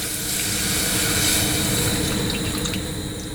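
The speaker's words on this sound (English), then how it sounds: "directly on top of that sort of mixture, I'm going to pour the milk" Milk poured into a hot pan over a macaroni mixture, a continuous sizzling, rushing liquid pour that stays steady and close for a few seconds with no talking.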